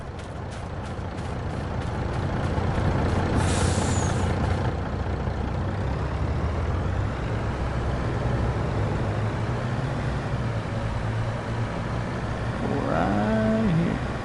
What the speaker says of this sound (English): Move that truck out of the way.